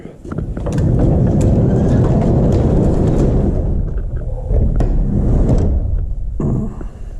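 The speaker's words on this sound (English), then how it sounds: "First things first, I guess we'll close the shop door back up." A shop door rolls shut in a garage holding a Porsche 944, giving a sustained mechanical rumble and rattle with scattered clanks, loud and close, ending in a final knock.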